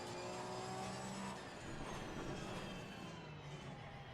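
Porsche race car engine in Assetto Corsa Competizione, a continuous high revving drone with shifting pitch, fairly quiet and with no talking.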